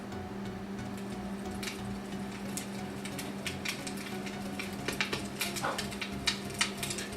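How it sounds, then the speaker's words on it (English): Ambient fireplace track from a Google Home smart speaker: soft steady crackle and hiss with scattered pops and snaps, a low hum underneath, and a few louder crackles near the end. "Here's the sound of a fireplace."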